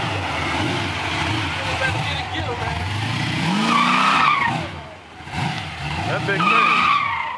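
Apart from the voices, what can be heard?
Chevrolet Cutlass convertible doing donuts, tires skidding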